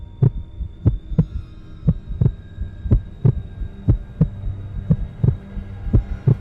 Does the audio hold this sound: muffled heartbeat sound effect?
yes